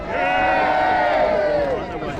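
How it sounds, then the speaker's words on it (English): A large crowd roars and cheers at a political campaign rally in Clacton, a loud, sustained swell of voices with whoops rising above it that holds for about two seconds and then fades slightly. "What a crowd. What a roar."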